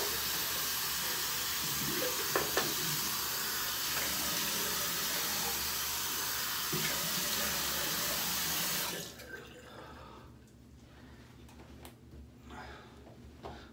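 Tap water runs steadily into a sink as a face is rinsed after shaving, a loud close hiss and splash for about nine seconds, then cuts off, leaving faint drips and handling sounds.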